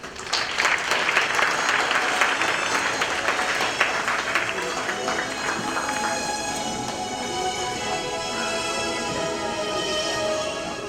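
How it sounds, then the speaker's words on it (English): Audience applause welcoming the Kerala Center president at an award night, sustained dense clapping from a large crowd that stays steady for about ten seconds, with a voice speaking over it early on. "a very humble man who deserves a round of applause"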